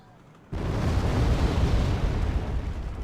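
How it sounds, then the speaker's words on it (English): Bombing run explosion in the video game Wargame: Red Dragon, a sudden loud blast that breaks a quiet moment and turns into a sustained, deep rumbling roar. "Missed that bombing run."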